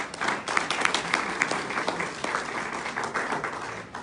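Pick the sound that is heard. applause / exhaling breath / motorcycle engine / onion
applause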